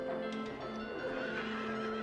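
Possessed carousel horses in the video game Silent Hill 3 give off eerie neighing and clip-clop sounds over a steady, droning mechanical hum, all at low volume for the entire stretch.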